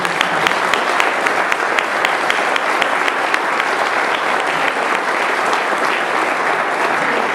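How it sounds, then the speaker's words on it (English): Loud, sustained applause from a sizable crowd at a golf championship press conference in a resort, dense steady clapping close by that continues without a break throughout. "have a round of applause for all the resort staff"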